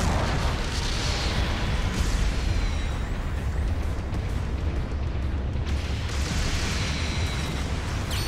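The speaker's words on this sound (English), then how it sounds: "Your mobile suit has been destroyed." A mobile suit blowing up in the Gundam Battle Operation 2 video game, a loud, sustained roar of explosions and rumbling debris with dense noise throughout and no talking.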